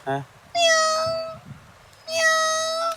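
A voice imitates a cat, giving two drawn-out, loud meows separated by a short pause, with a brief vocal sound at the start.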